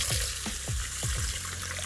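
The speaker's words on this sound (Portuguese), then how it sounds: "Vamos pôr a água no bowl." Water poured into a bowl to wash rice in a kitchen, a series of splashing, sloshing gushes arriving in uneven bursts, close and fairly loud with no talk.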